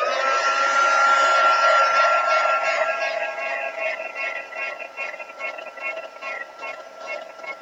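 A heat gun or dryer drying freshly inked artist trading cards, giving a steady broadband whoosh that stays loud and continuous throughout, easing slightly and fluttering toward the end.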